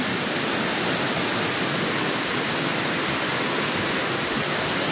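Heavy rushing water of a flooding river roars continuously and loudly, a dense broadband torrent with no pauses.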